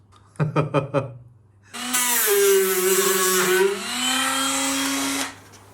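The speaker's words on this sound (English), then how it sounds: "I've got this little flappy wheel, like a little sanding disc" A few quick taps, then an angle grinder with a flap disc whirs up to a high grinding whine, sanding paint and rust off a Ford's metal parcel shelf; the whine dips under load and steadies before cutting off.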